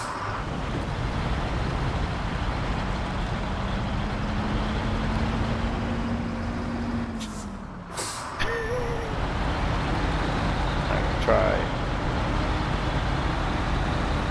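In the Snowrunner video game, a truck engine drones steadily while it strains stuck on rocks, with a brief rumble shift and a couple of clunks partway through, and no voices.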